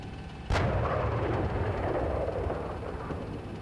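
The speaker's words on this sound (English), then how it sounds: "We're taking fire here." Heavy gunfire in a military video game, a sharp loud blast followed by a sustained rumbling barrage of shots and explosions with no speech.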